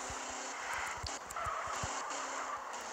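A Toyota Supra drifts on a desert road in GTA San Andreas Mobile, its tires squealing continuously over a steady engine drone.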